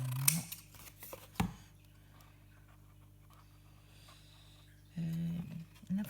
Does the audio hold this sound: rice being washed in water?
no